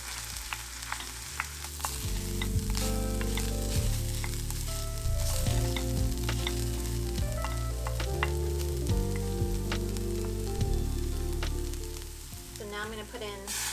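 Crumbles sizzle and fry steadily in a pan heated over medium-high heat while being prepared for a Korean meal, with music playing over the cooking sound throughout.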